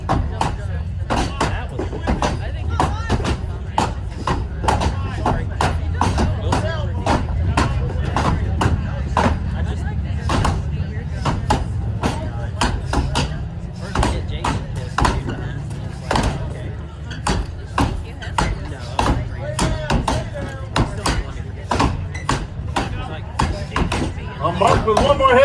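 Axes chopping timber in a competitive timbersports race, rapid steady thuds of blade into wood, several choppers striking at once, loud and close under an announcer's commentary and crowd noise.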